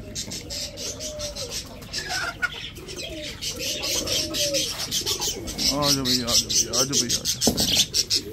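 Backyard hens in a coop clucking and squawking noisily, overlapping calls rising in intensity toward the end, while someone speaks briefly nearby.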